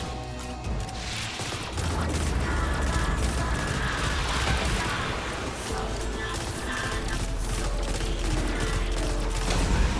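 Peacebond, a stasis burst-fire sidearm in Destiny 2, fires in rapid clustered bursts against a boss in the Last Wish raid, with sharp mechanical cracks layered over dense game effects and music, continuing almost without pause.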